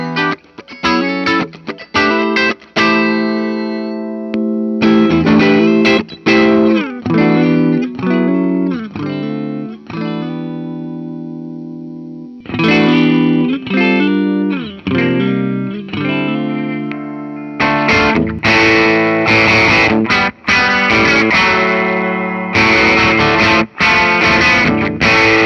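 A 1971 Gibson Les Paul Personal electric guitar plays chords and single notes through effects, with distortion and chorus, loud and continuous, including a sustained ringing passage and a brighter, denser strummed section at the end.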